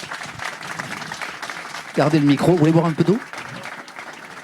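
Applause from the audience at a talk with a guest continues under the exchange, a soft steady clatter of many hands behind someone speaking briefly in French near the middle.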